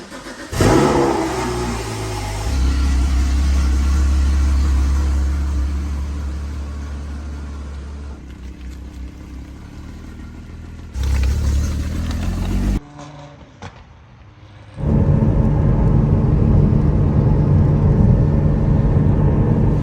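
A car fitted with race headers, close and loud, revving and accelerating with a rough mid-range engine drone that rises and falls, drops to a quiet idle near thirteen seconds, then surges back to a steady loud run.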